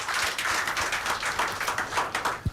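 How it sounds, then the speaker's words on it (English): An audience claps together through a radio call-in programme, a steady dense patter of many hands close by, with no speech over it. "Come on, a clap for them."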